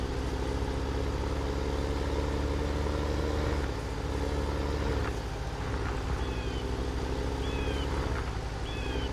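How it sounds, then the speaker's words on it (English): A tractor engine idles and runs in a farming video game, a steady, loud low drone throughout, with faint bird chirps over it near the end. "This tractor don't want to lift it very much"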